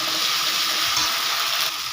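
Onion fries with a spoonful of ginger, garlic and dry chilli paste stirred into it, giving a steady, dense sizzle close by with no voices.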